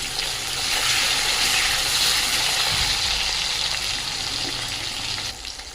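Onion and tomato frying in hot oil with spices, cooking onion-stalk, potato, bean and aubergine charchari, a steady loud sizzle and hiss that holds throughout, easing slightly at the end.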